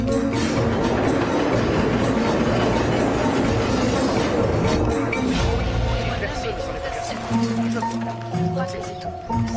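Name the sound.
tram running on rails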